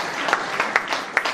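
Audience at a book launch and award event clapping, a short burst of scattered applause with a few sharper individual claps, moderately close.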